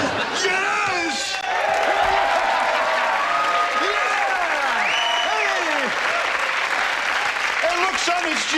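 Crowd cheers and applauds at a basketball game, a loud, dense roar with whoops and shouting voices layered over steady clapping throughout.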